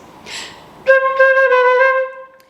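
A short flute phrase with a few tongued notes followed by smoothly connected ones, preceded by a soft breath, clear and close.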